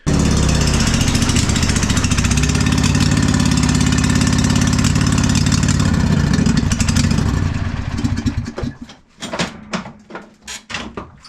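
A Husqvarna riding lawn mower's engine runs loud and close for about seven seconds, then sputters and dies down unevenly with rough, irregular pops as it runs poorly and backfires.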